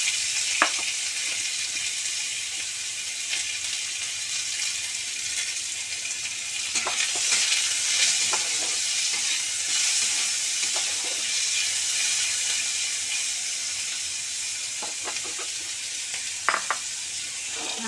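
Chopped onion, garlic, ginger and chili frying in hot oil, a steady broad sizzle with occasional soft clicks of stirring, close and continuous with no talking.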